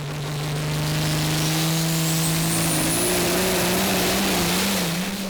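A tractor-pulling tractor with an 11-litre Scania engine bellows at sustained full throttle in a competition pull, a loud steady drone with its pitch wavering slightly as it labours on.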